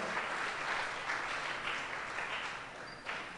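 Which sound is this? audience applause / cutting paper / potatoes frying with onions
audience applause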